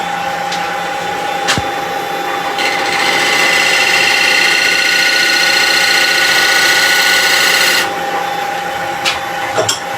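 Woodturning lathe running at about 1,000 rpm while a speed sizer cuts a toffee dish to size: a steady, close rasping scrape that swells and holds for several seconds before easing off, with a few sharp knocks around it.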